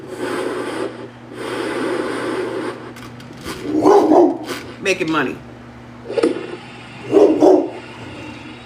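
A dog lets out a few barks and yips, loud and close, mixed in with someone talking and some rustling.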